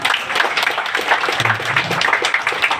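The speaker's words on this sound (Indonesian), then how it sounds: "Tepuk tangan dulu." An audience applauds at the inauguration of the Baitul Janah Majlis Ta'lim hall, a steady patter of many hands clapping at moderate volume, fairly close and even from start to finish.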